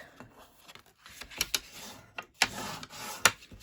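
Scored jade cardstock folded and burnished on a card-making desk, giving soft crinkles and a few sharp creasing clicks, then short rubbing passes, close and quiet with no talking.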